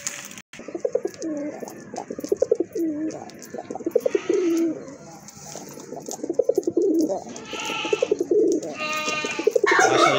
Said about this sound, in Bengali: খুবই সুন্দর ভালো মানের কবুতর